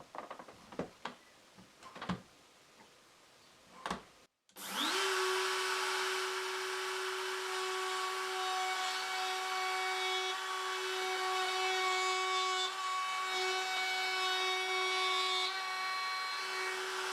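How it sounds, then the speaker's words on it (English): A few light knocks and taps come first, then a router spins up into a loud, steady, high whine while cutting a two-centimetre-deep mortise in wood, guided by a centering bearing over several passes. "I am going to route the 2 centimeters in depth by making several passes."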